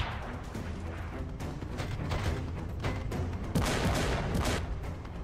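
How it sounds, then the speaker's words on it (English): Assault rifle fire in an animated battle between the Doom Slayer and a Space Marine, dense rapid bursts of gunshots with booming impacts, loud and chaotic, layered over a heavy soundtrack with no pauses. "Okay, I guess that's the assault rifle"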